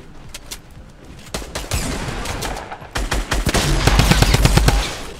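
Rapid bursts of shotgun fire in a video game, sparse single shots at first, then dense overlapping volleys growing louder and closer toward the end, with no talk.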